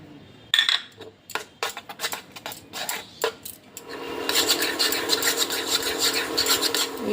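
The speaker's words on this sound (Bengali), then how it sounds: "এবার এই সন্দেশটা অনবরত নাড়তে হবে, না নাড়লে নিচ দিয়ে লেগে যাবে।" Sandesh mixture stirred continuously in a pan, irregular scraping and rasping strokes of a spoon against the metal that settle into a denser, steady rubbing scrape, close and alone without talk.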